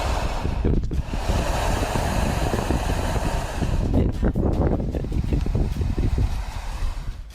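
Loud, roaring wind rushes continuously, booming and hollow like air forced through an enclosed space, swelling and surging with no voices.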